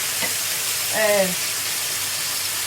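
A lamb steak searing in a frying pan gives a steady, even hiss of hot fat throughout, close up, with a brief voice sound in the middle.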